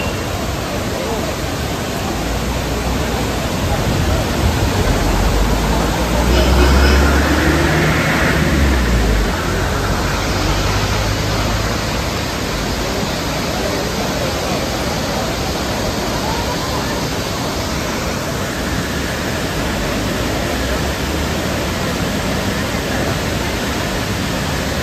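Ravana waterfall in full monsoon flow gushes with a loud, steady, enveloping roar of rushing water, with a voice briefly audible over it.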